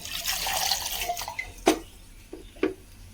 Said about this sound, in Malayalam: അരപ്പ് ചേർക്കാം ആവശ്യത്തിന് വെള്ളം ചേർക്കാം